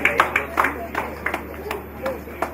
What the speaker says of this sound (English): Guys, applause please.